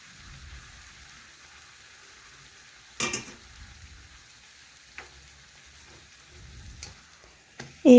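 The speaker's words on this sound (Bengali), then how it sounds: "এইভাবে দুপাশেই আমি ভেজে নেব" Dhakai paratha frying in oil in a kadai, a soft, steady sizzle broken by a few sharp knocks and scrapes as the bread is turned, with a louder clatter at the very end.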